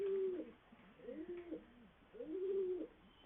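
Domestic pigeons coo in three repeated rolling phrases, close by and fairly quiet, with brief pauses between calls and no talking.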